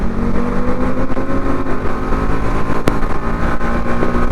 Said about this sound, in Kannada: ಮುಂದ್ಗಡೆ ಸಾಕ ಮೆಕ್ಲಾರನ್ ಹೋಗ್ತೈತೆ ನೋಡ್ಗುರು